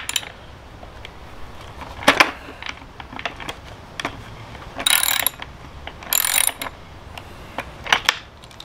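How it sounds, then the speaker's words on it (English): A 9/16 wrench turns a bolt on a skateboard truck while bushings are swapped, giving scattered metallic clicks and short ratcheting scrapes in irregular bursts, fairly close, with no talking. "We have to use a regular old wrench, and you want to use a 9/16."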